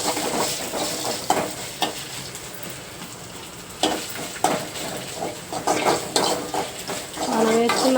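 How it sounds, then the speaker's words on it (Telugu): Ginger garlic paste fries in a pan with a continuous sizzle, broken by repeated scrapes and clinks of a spoon against the metal pan, loud and close. "మనం వేసుకున్న అల్లం వెల్లుల్లి కూడా లైట్గా ఫ్రై అయ్యే వరకు ఫ్రై చేసేసుకుందాం."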